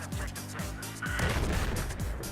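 Rapid gunfire from Battlefield 4 on a game-night quad outing, a dense run of sharp repeated shots with an automatic-weapon feel, loud and continuous throughout, with voices talking over it.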